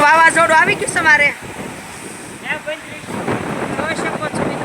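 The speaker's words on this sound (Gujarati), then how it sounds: "વાવાઝોડું તો જો પવનની બલહારી બોલે છે." Gusting storm wind roars through a village, bending trees, its buffeting rumble rising and falling close to the microphone, while someone talks over it in short bursts.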